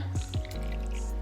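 Vanilla poured into a food processor holding sweet potato pie filling gives a brief splashy, dripping pour lasting about half a second, followed by a steady low hum, with no talking.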